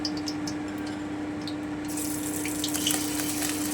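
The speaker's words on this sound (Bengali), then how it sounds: "কম তেলে কিন্তু মাছের ডিমটা ভাজতে হয়" Fish roe frying in a little hot oil on low heat, a soft, steady hiss that brightens into a crisper sizzle halfway through, with a constant low hum underneath.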